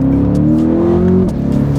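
2021 Chevrolet Corvette Stingray Convertible with a 6.2-liter engine at full throttle, a loud close rising engine roar that climbs steadily, breaks briefly at a gear change, then picks up again.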